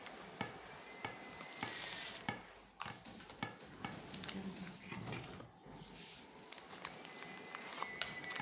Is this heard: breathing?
no